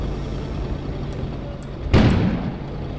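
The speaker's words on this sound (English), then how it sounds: "An explosion suddenly occurred outside." A sudden explosion goes off outside in the video game Kona, a single muffled boom with a low thud rising about two-thirds of the way through over a steady ambient background.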